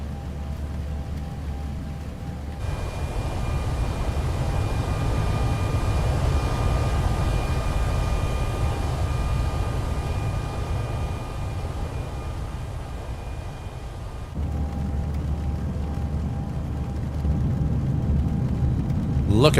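Jet engines of an Airbus A319 at climb thrust in the X-Plane 12 flight simulator, a steady loud roar with a whining tone, cutting to a quieter cabin-like hum partway through before returning.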